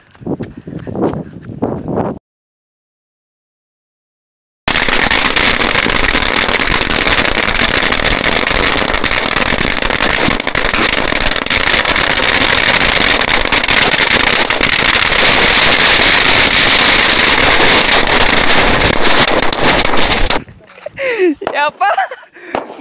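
A long, dense barrage of naattu vedi country firecrackers bursts loudly and continuously for about sixteen seconds after a short silence, with voices speaking briefly before and after the blasts.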